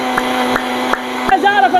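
An electric blender runs with a steady, loud motor whine and a few rhythmic knocks, and a voice speaks over the last part.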